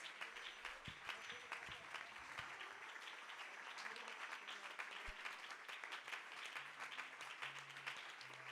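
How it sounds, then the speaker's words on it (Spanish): A church congregation applauds in praise during a Spanish-language worship service. The clapping is steady and continuous, fairly faint and roomy, with scattered louder claps and a few faint voices mixed in. "regalémosle un aplauso al Señor en esta mañana."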